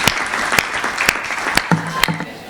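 Audience at a Hindi comedy poetry show bursts into loud applause, a close, dense clapping that carries through the whole moment with voices mixed faintly underneath.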